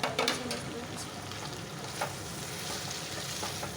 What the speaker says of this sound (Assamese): এতিয়া মই ইয়াত বাটাৰখিনি এড কৰি দিম